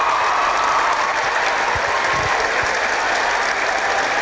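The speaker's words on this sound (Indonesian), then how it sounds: "Kita berikan aplaus untuk Nikita Mirzani" A studio audience applauds, dense steady clapping that stays loud and continuous from start to finish.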